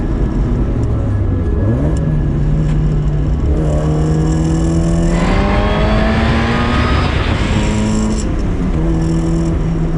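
A supercharged Mazda Miata NA track car with aero, good suspension and slicks accelerates hard, its engine note climbing steadily through several gear shifts, loud and close throughout with no talking.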